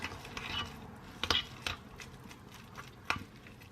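Food being stirred in a pan, soft scraping with a few sharp metallic clinks of a utensil against the pan, fairly quiet and close.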